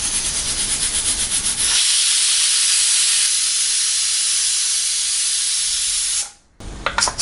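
Loud, steady steam hiss from a pressure cooker holding tamarind rice, venting for several seconds after a sputtering start, then cutting off abruptly near the end.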